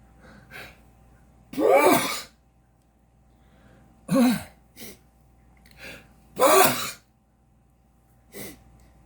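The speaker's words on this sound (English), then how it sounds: "I'm going to sneeze." A few breathy, sharp bursts like sneezes or throat-clearing, spaced out with pauses between them, close and fairly loud.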